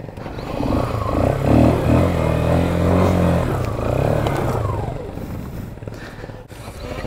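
A motorcycle stuck on a rough road roars and strains, engine revving loudly and unevenly for several seconds before fading toward a quieter rumble.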